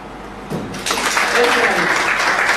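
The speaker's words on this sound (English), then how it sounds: "Let's give a round of applause for the strong prayers." Audience applause at a civil society event, breaking out around half a second in and swelling into a broad, sustained round of clapping. Voices can be heard speaking over it.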